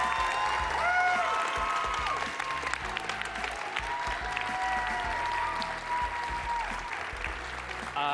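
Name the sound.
audience applause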